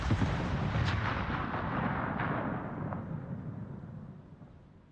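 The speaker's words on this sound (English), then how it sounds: "he's landing torpedoes" A torpedo hit explodes in World of Warships as one loud, deep rumbling blast, followed by a few muffled secondary thuds that slowly fade to quiet over several seconds.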